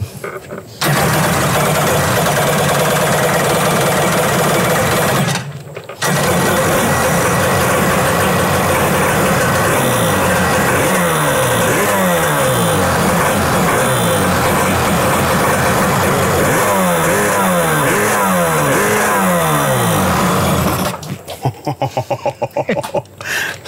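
Hot rod personal watercraft engine cranking, catching and running with repeated rising and falling revs over a steady buzzing idle, loud and close, cutting out briefly near the start and end.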